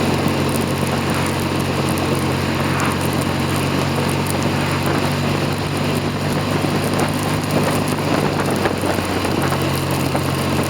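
A BSA A10 Super Rocket motorcycle rides along a snowy road, its engine a steady, continuous drone heard close throughout with wind noise over it and no speech.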